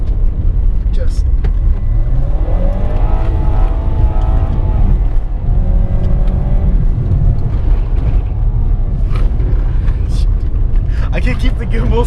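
A Jaguar XE drifting in the Nevada desert near Las Vegas, its engine rumbling and revving loudly and steadily close by, with tire and gravel noise mixed in and people talking over it.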